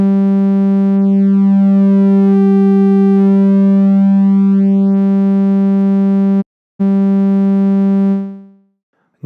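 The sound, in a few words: Mela synth VA oscillator rectified sine waveform morphing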